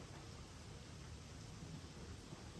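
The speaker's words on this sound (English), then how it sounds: "but it's raining very strong outside" Heavy rain falls steadily outside during a painting session, a dense, even hiss of downpour heard faintly and continuously, with no voices.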